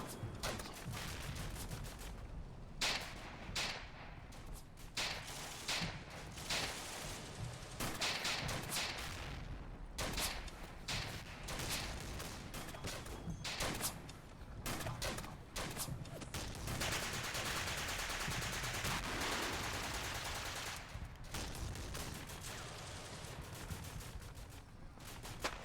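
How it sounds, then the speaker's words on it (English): Gunfire rattles through a 1940 battle in the Combat Mission Afrika Korps video game. Dense volleys and machine-gun bursts rattle almost without pause, fairly quiet and distant-sounding. "Got another gun shooting at us from somewhere."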